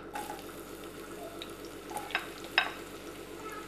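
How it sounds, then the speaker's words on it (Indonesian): Shallots sautéing in a little hot oil in a pan, a soft steady sizzle with a few brief stirring clinks and scrapes, quiet and close. "Setelah minyaknya panas, kita tumis bawang merah"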